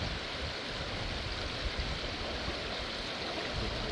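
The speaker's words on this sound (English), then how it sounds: "Quick rinse in the pot here." Water rushes and splashes steadily as a cooking pot is rinsed at a wild camp on Vancouver Island, close and continuous, with no voices.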